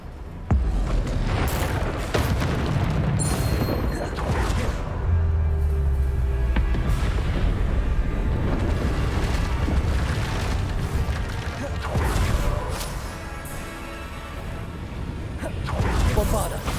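Bombarda spell explosions in the game Hogwarts Legacy, heavy booms and whooshes in a dense, loud battle mix, with voices shouting spell names over the blasts.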